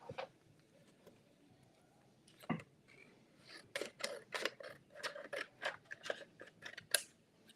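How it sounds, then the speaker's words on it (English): A big pair of scissors snips through card in a run of short, crisp cuts, faint at first and then quickening into a steady rhythm of close clicks and slices. "big pair of scissors."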